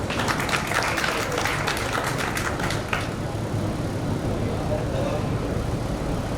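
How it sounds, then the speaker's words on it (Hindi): Audience applause at a talent award event in Barwani, a dense patter of clapping filling the first half and then fading into crowd murmur and talk. "ज़ोरदार ताली बजा दीजिए सर के लिए"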